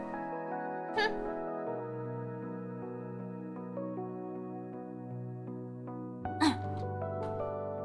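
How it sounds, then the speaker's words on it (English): A single sharp sneeze comes near the start, with another sudden burst near the end, over a steady tonal background with no talking. "A sneeze."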